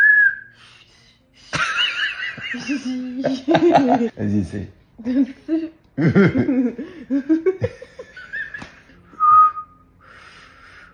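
A person whistles short melodic notes between bursts of chatter and laughter from several people, with the whistling clear and close at the start and again near the end.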